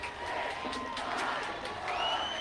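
A home crowd cheers at the end of a 2021 high school football game between Kennedy and Highland Park at Bloomington Stadium, a sustained roar of voices and whoops that stays loud throughout.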